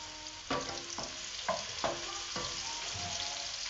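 Onions frying in a pan for octopus pasta, a steady soft sizzle broken by a handful of spatula scrapes and taps at roughly half-second intervals, close and fairly quiet.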